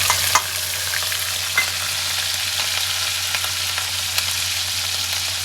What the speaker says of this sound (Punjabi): ਜੀਰਾ ਪਾਉਣ ਸਾਰ ਨਾਲ ਹੀ ਆਪਾਂ ਪਾਵਾਂਗੇ ਹਰੀ ਮਿਰਚ